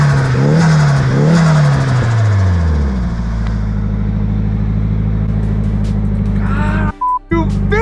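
Nissan Silvia engine revving hard outdoors in snow, rising and falling through a couple of sharp blips before settling into a loud, rough idle, with a brief cut-out near the end.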